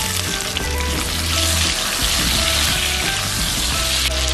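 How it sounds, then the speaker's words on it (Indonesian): Sambal sizzles loudly in a hot pan with sliced lime leaves and tomato pieces, a steady dense crackle of frying that runs unbroken throughout with no voices. "Lanjut, kita tumis sambal. Masukkan irisan daun jeruk. Tambahkan potongan tomat."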